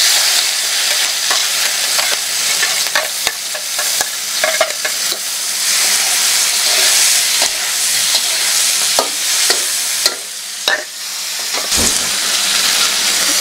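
Spicy chicken skin stir-fries in a hot pan with chili, ginger, garlic, green tomato and sambal, a loud continuous sizzle broken by repeated sharp scrapes and knocks of the spatula against the pan.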